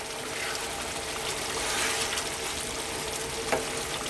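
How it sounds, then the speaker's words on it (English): Frozen peas go into a pan of simmering potato curry, giving a soft, steady sizzle and watery bubbling at low volume with a small clink near the end. "let's add in those frozen peas."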